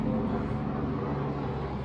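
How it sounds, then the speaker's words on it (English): Steady low broadband rumble of an airplane passing near a runway, loud and continuous throughout with no talk over it. "Sorry for the plane."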